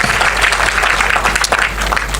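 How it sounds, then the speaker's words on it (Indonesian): A church congregation applauds for God, a dense wash of many hands clapping together, loud and steady for a couple of seconds. "Berikan tepuk tangan kita untuk Tuhan dulu."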